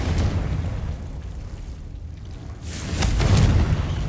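A Confringo fire spell explodes in Hogwarts Legacy, a low rumbling blast that swells, dips briefly, then booms again more loudly, with no talking.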